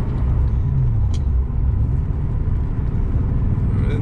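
Either a 2007 Shelby GT or a 1981 Porsche 928 accelerating in third gear, heard as a loud, continuous low rumble of engine and road noise that rises slightly in pitch early on and stays steady throughout.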